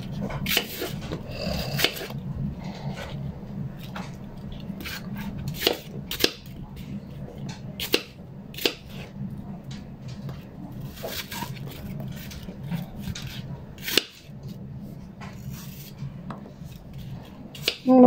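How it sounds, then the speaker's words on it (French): A kitchen knife slices through orchard apples for an apple cake, giving soft rasping cuts and small clicks against a board, irregular and fairly quiet, with a few sharper taps. "ce couteau il coupe pas mal du tout"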